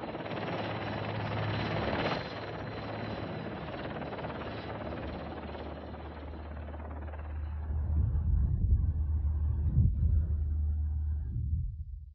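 A rescue helicopter at a ship disaster at sea drones steadily with a constant rotor and engine roar, growing louder and heavier toward the end before cutting off.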